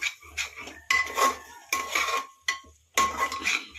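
Peas being sautéed in a pan for pulao, with bursts of metal utensil scraping and clinking against the pan in short rhythmic strokes, separated by brief pauses, fairly close and moderately loud.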